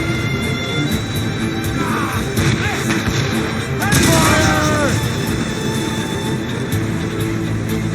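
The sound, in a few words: ship cannons firing in an Assassin's Creed video game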